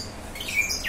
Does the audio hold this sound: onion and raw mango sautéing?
no